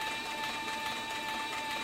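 Harness maker's sewing machine stitching leather, a steady close mechanical hum with a fast, even rhythm and a thin whining tone running throughout.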